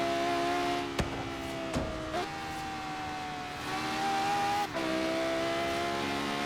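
Toyota car engine in the racing game Forza Horizon 3, a steady sustained engine drone with shifting pitch and a few brief gear-change dips, loud and continuous with no talking.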